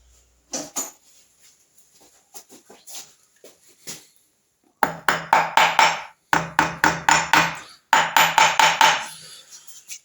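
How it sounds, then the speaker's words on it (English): A small hammer taps metal lock tabs on a Triumph Trident T160 kickstart ratchet assembly, first with light scattered taps, then in rapid bursts of sharp, close, ringing strikes. "I'll just finish it off with a little hammer."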